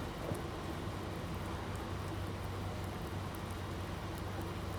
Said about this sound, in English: The rain's getting a little bit more persistent, so time is of the essence.